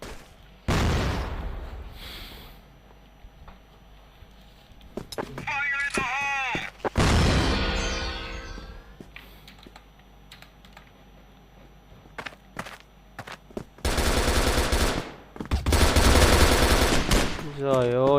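Video-game gunfire with machine-gun bursts and booming artillery-like blasts comes in loud, separate volleys with quieter gaps between them, while electronic game effects sound through the action.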